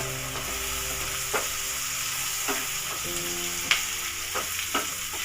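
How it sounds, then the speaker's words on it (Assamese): Onions fry in a pan with cumin, red chili and garam masala, a steady sizzle broken by several distinct spatula scrapes and taps at irregular intervals. "পিঁয়াজখিনি ৰঙচুৱা হোৱালৈকে মই এনেকৈ ভাজি থাকিম।"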